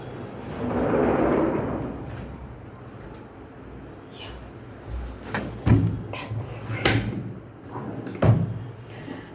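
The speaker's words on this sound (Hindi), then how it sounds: "मैं दरवाज़ा बंद ही कर देती हूँ," An indoor door is pushed shut with a few dull thumps and knocks near the end, while someone talks in a room with some background murmur.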